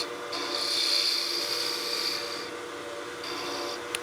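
A spindle gouge cuts a groove into spinning wood on a lathe, with a bright, sustained scraping whine that holds for about two seconds and then returns briefly, over a low steady motor hum.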